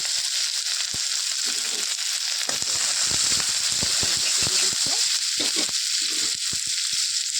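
Chopped onion and green chili hit hot oil already seasoned with panch phoron, giving a loud, steady sizzle broken by scraping stirs. A few faint voices are present.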